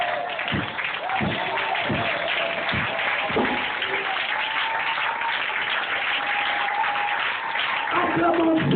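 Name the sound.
congregation applauding in church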